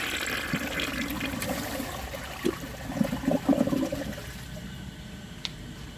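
A 1998 Eljer Savoy toilet flushes with a washcloth in the bowl, a steady rushing gurgle of water with a louder swirling surge midway before settling back.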